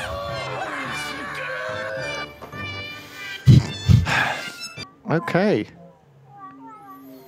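Several pet cats meow in a festive novelty recording, a run of close, pitched meows and a loud caterwaul mixed with music, with a person talking over the start.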